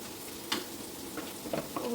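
Fish fries in hot oil with a steady, close sizzle that fills the whole stretch, a few brief clinks and stirring knocks popping through, no talk.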